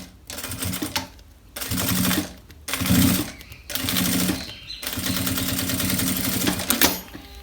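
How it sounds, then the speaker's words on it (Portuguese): A sewing machine stitches along the side of a handmade wallet in rapid mechanical bursts separated by short pauses, each run of stitching loud and close, with no talking. "Costuro já aqui a outra lateral."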